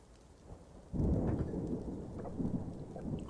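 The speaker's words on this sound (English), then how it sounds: "Oh, the thunder sounds." Thunderstorm with rain in the video game Dwarf Fortress: a loud rumbling thunderclap bursts in about a second in over steady rain, then keeps rolling under the downpour to the end.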